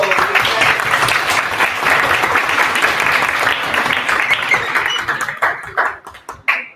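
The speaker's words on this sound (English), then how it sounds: "I would like to ask for a round of claps." A live audience gives a sustained round of applause, dense steady clapping that thins out into scattered individual claps toward the end.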